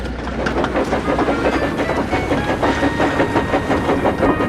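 A steam engine puffing down a branch line, a steady loud rhythmic chuffing with rolling rail clatter, close and continuous throughout.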